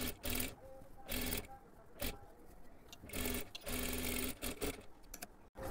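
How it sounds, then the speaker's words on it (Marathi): A sewing machine runs in repeated bursts of about a second each, putting a double line of stitching along the sleeve seam of a size 30 katori blouse, close and steady with short pauses between runs. "आता ह्याच्यावरती आपल्याला परत एकदा डबल शिलाई मारून घ्यायची असते"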